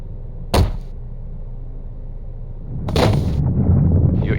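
Explosions in the Star Wars: Knights of the Old Republic II – The Sith Lords video game: a sharp single blast early, then a second heavier boom that rolls into a sustained low rumble, loud against a quiet hum.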